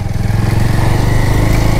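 A motorcycle engine drones steadily while riding along a road at night, a close, continuous throbbing hum with a slightly pulsing rhythm.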